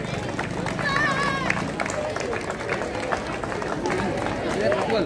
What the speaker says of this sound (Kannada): ಚಪ್ಪಾಯಿ ಬರಲಿ